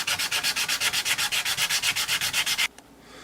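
Hand sanding of a wooden shotgun stock using the shoe shine method: about twenty quick, even back-and-forth rasping strokes close up, ending abruptly, with no talking.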